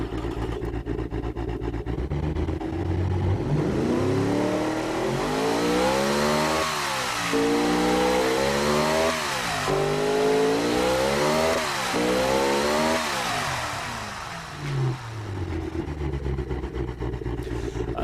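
A 1300 hp kei car engine in BeamNG Drive revs repeatedly, rising and falling in a harsh, buzzy wail across several sweeps before settling back to a rough idle, loud and close with no talk.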